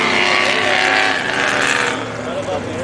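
Vintage show cars, including a '55 Ford Fairlane, rolling past on a winner's lap at a 2010 car show, engine drone swelling and fading as they pass, with a voice talking over them.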